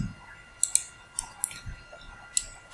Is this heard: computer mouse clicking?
yes